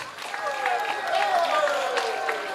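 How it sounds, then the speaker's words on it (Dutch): Applause for a wind orchestra at a local music festival fills the hall as a moderate, steady patter of clapping, with voices carrying over it. "ik geef ze nog een hartelijk applaus"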